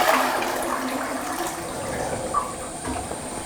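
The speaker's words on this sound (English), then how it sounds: "we've flushed the loo." A household toilet flushes nearby, giving a steady rushing of water that holds throughout with small gurgles along the way.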